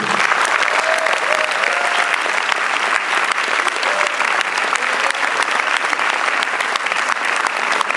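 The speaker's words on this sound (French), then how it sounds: "vous pouvez maintenir vos applaudissements pour Patrick Bruel, pour Marine Laterne et pour Yannick Signé" Dense, steady applause from a large audience at a Paris film premiere of Paris-Manhattan fills all eight seconds, loud and close, with only faint hints of a voice underneath.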